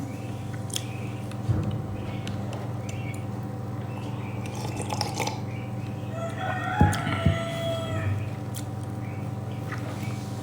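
A rooster crows once, a fairly faint drawn-out call standing out over a steady low electrical hum during a live stream, with a few scattered small knocks and rustles around it.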